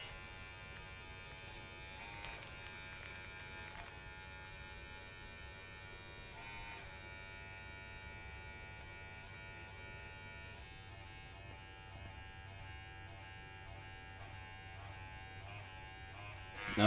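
Electric hair clippers with a 1.5 guard hum steadily while cutting a buzz cut taper fade, a close, constant buzz with small shifts in tone as the lever moves, and no speech.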